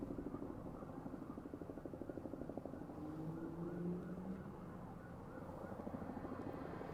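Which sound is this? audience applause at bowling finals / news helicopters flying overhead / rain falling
news helicopters flying overhead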